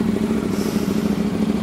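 A KTM Duke 990 motorcycle engine runs close by with a steady, throbbing low-pitched rumble and a slight mechanical clatter over a short stretch.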